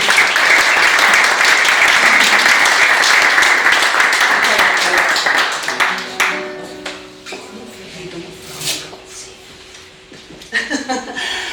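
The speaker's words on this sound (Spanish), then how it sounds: "Un aplauso, muchas gracias por estar aquí." Audience at a literary reading in Málaga breaks into loud, dense applause that holds steady for several seconds, then thins into scattered claps while a voice and some murmuring come through before a final short burst.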